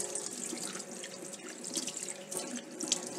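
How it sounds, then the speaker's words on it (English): Running tap water pours steadily into a sink as a gutted fish is rinsed under it, a continuous close splashing hiss with small drips and no talk. "Wash the fish under the running water to clean out all the internal organs and the blood that has dripped out."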